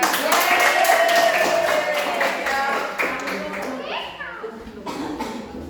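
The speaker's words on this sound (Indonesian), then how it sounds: "Oke, tepuk tangan." Children clapping together in an Indonesian school classroom, a burst of quick uneven claps up front that thins and fades, with kids' voices chattering and calling out over and after it.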